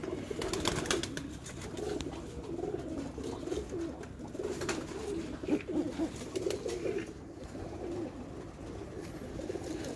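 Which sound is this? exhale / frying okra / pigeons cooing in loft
pigeons cooing in loft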